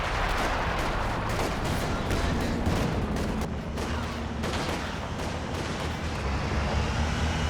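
Dense barrage of bazooka and artillery fire in Company of Heroes 2, a rapid overlapping stream of booms and shots with no breaks throughout.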